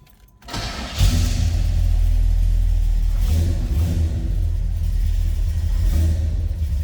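A 1969 Chevrolet El Camino engine cranks and catches, then settles into a steady, deep rumbling idle, loud and close.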